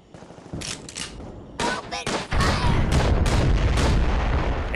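Soldiers in Tiny Troopers fire guns in sharp, close bursts, sparse shots at first and then dense, continuous rattling gunfire with booming impacts.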